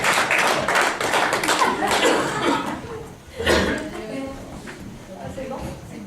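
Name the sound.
congregation applauding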